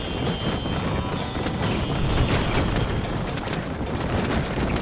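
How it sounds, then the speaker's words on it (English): A fast single-horse wagon in Red Dead Redemption, its hooves clip-clopping in a steady, continuous patter over a rough rolling rumble, close and without talk. "the single horse wagons on this game are so fast"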